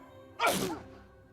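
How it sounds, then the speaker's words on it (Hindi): A single short sneeze bursts out over quiet background in a Hindi-dubbed Hollywood action movie, sharp and close before fading. "मुझे छींक क्यों आई?"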